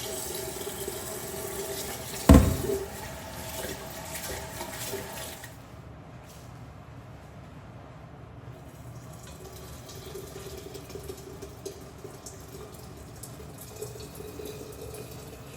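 Water splashes into a pot to cook washed rice in a home kitchen. A sharp clunk comes first, then a few seconds of steady pouring and running water that fades to a quiet, low hiss.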